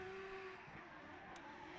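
A BMW E30 drift car at a competition final, engine droning as the driver feathers on and off the throttle, heard at a distance and fairly faint, with a brief tire-squeal burst near the end.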